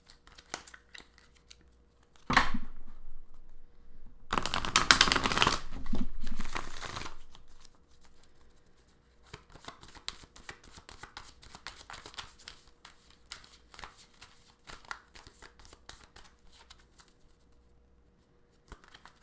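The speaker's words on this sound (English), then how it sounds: "do one quick little shuffle here" Tarot cards are shuffled close to the microphone in bursts of riffling and crisp rustling, with quieter card handling and light flicks continuing afterward.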